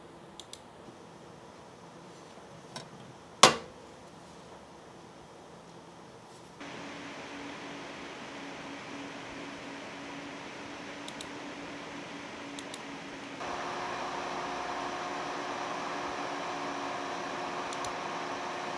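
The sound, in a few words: PC case fans running under load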